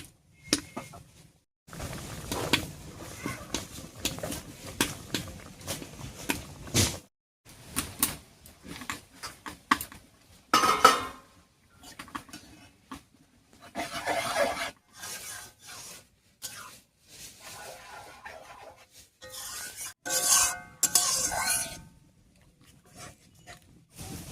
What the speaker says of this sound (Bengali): কাঁচা লঙ্কা আর পাট শাকটা দিয়ে খুব ভালো করে মিশিয়ে নিয়েছি।